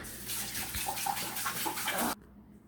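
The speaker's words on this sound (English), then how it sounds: "Let me wash my hands" Tap water runs steadily into a sink as hands are washed in a home kitchen, a continuous hiss and splash that stops abruptly near the end, leaving quiet.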